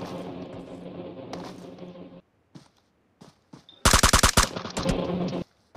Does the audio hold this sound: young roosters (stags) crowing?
no